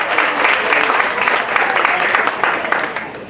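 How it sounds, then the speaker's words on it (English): Audience at a chamber of commerce breakfast meeting at a fairgrounds applauds loudly and close, many hands clapping in a lively, uneven patter with murmuring voices mixed in. "Let's break up the silence with a round of applause for Johanna."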